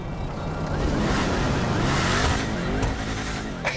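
Inside the video game GTA Online, an Arbiter GT engine roars loud and steady as the car revs and races, with tire squeal and skidding layered over the continuous motor noise.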